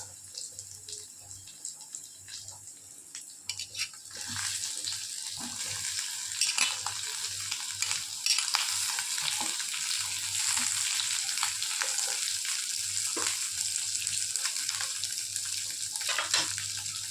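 Cut potatoes tumble into a pan and start frying for a simple home lunch, with a soft sizzle that swells after a few seconds into a steady, close crackling hiss, no voices.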